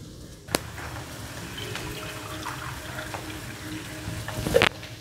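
Water pours steadily into a pot of frying prawns and egg for prawn pulao, a continuous close splashing fill ending in a brief clatter.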